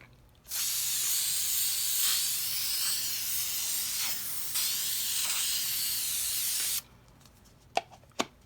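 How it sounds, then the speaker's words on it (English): A spray can hisses steadily for about six seconds as a finish coat goes onto a handmade Shungite orgonite charging plate, followed by a few faint clicks. "we're going to go ahead and spray this and let that dry"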